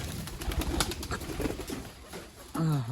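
Pigeons coo beside their coop; a low, throaty coo rises clearly near the end after a stretch of close rustling and shuffling.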